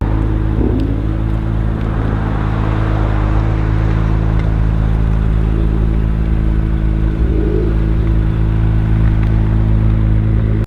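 A 2017 Acura NSX mid-engine 3.5-liter V6 supercar drones steadily and loudly from inside the cabin, a constant low mechanical hum with faint clatter and no talking.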